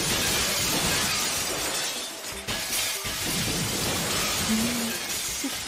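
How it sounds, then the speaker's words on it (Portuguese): Realistic glass shattering in a Minecraft-in-real-life style scene, a loud sustained crashing, tinkling wash with a few sharper breaks, heard alone without talk. "E agora ele vai quebrar um vidro realista."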